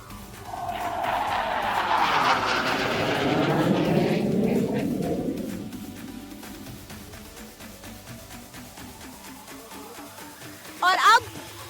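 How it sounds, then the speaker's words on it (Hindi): An Indian Air Force aircraft performing at an air show roars past overhead, its loud engine swelling and then falling in pitch as it recedes into a distant rumble. A brief sharp bang follows near the end. "ये है भारतीय वायुसेना का दिल जो अभी इस वक्त हमें आसमान में नजर आ रहा है।"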